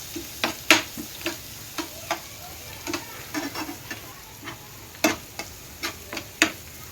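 A spoon stirs potato samosa stuffing with chili powder in a pan, giving irregular sharp taps and scrapes against the metal over a soft sizzle, close and clear with no talking.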